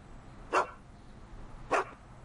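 Two sharp dog barks about a second apart, from a dog in the Back to the Future adventure game, fairly loud against a quiet background with no talk.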